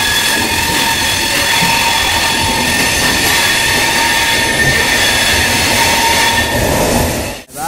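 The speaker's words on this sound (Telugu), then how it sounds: "ఇప్పుడైతే ట్రైన్ 1 minute ఉందండి స్టార్ట్ చేయడానికి అయితే" The Falaknuma Express stands at Secunderabad Junction with a loud, steady rumble and high squealing tones, continuous for several seconds before a brief drop and clatter at the end; no voices are heard.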